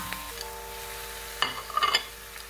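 Chopped onions hit a hot pan for a goat meat pepper dish, a short burst of crackling sizzle with a few clinks of utensils against the pan, near and brief.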